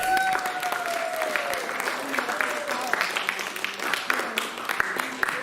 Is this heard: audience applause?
yes